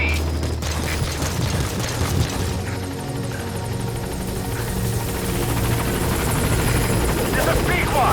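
Helicopter arriving at a landing zone in Metal Gear Solid V, a loud continuous rotor thump and engine drone throughout, with a radio voice speaking over it.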